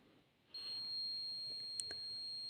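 A laser security alarm built as a physics project sounds off with a sudden, steady high-pitched electronic tone that holds without a break after a quiet start. One or two faint clicks come through beneath it.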